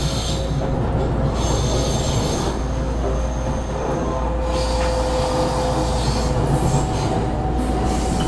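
A JR West 223-0 series Kansai Airport Rapid electric train runs between Tennoji and Rinku Town, with a steady loud rumble of wheels on rails and a faint squeal of wheels throughout, heard from inside the carriage.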